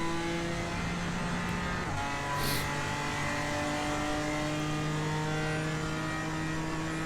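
Race car engine in the video game Assetto Corsa Competizione, a steady droning tone that shifts pitch as the gears change, continuous and fairly close with no talk over it.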